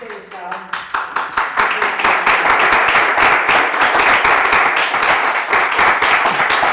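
Loud, dense applause with clapping from an audience at a centenary celebration of the Lyceum Club Femenino, Spanish feminist pioneers, swelling after a brief moment of talk and holding steady throughout.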